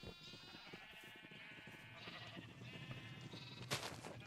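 Sheep bleat in the blocky Minecraft video game, several wavering calls overlapping close up and fairly faint, ending with a brief sharp noise burst.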